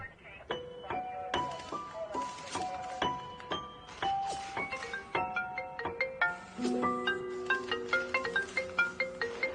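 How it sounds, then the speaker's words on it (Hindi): A mobile phone ringtone plays an incoming-call melody of bright chiming notes in quick succession, steady and fairly loud for the whole stretch. "फोन उठाओ, देखो कौन कॉल कर रहा है"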